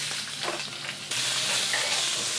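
Pork ribs deep-fry in oil heated to 190 degrees, producing a dense, close sizzling hiss that suddenly jumps louder and brighter partway through, with no talk.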